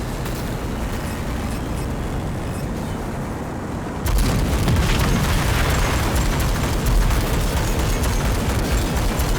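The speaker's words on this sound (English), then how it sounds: "you need the big cannons for this guy" Big cannons in the shooter Rage 2 fire and explode as a dense, continuous roar of booms and bursts that grows louder partway through and stays heavy to the end, with no speech.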